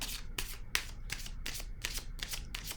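A deck of tarot cards is riffled and shuffled in quick, crisp bursts, about a dozen rhythmic flutters close to the mic, with no voice over them.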